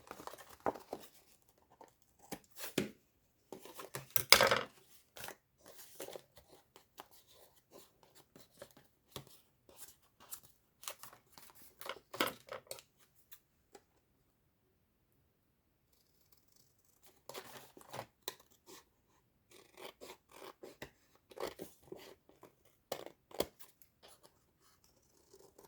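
Scissors cutting excess material off a used Christmas gift bag, with clusters of snips, crinkles and rustles separated by quiet pauses, close by and fairly soft.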